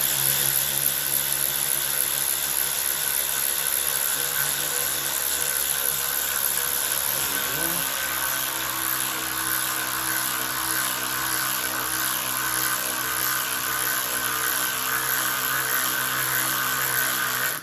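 An S-long 3/8 cordless ratchet runs continuously with a steady motor whir, driving a T25 bit, and its tone shifts briefly partway through.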